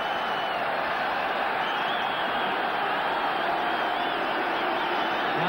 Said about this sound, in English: the crowd yelling for a big heave from the Welsh forwards